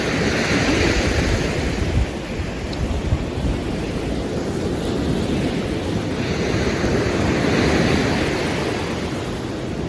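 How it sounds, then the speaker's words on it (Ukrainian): Steady roar of Black Sea waves washing onto a beach at Chornomorsk, with swelling surf and some wind buffeting the microphone throughout. "Це такі хвилі добралися до мене."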